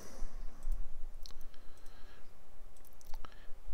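A computer mouse clicks several times while assets are being set up in Unreal Engine 4, short sharp clicks at irregular intervals over a quiet background hum, with no talking.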